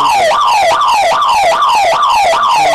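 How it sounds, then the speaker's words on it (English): A loud wailing half-time siren at a rugby match sweeps up and down in a fast repeating cycle, about six rises in under three seconds, steady and unbroken. "Literally on the stroke of half time as we hear the siren go."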